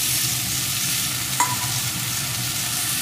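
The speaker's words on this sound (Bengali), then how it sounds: "আর এটাকে একটু ভেজে নেব" Chopped potato fries in a pan, a continuous dense sizzle held close and even across the short stretch, with one faint clink partway through.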